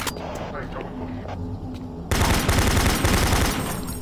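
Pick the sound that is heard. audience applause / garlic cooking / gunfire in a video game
gunfire in a video game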